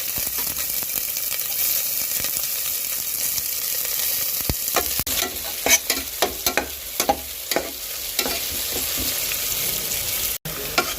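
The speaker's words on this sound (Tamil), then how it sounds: "வெங்காயம் நல்லா வதங்கிடுச்சு." Onions sizzle steadily in hot ghee while a spoon scrapes and stirs the pan in irregular clacks, close up with no talking.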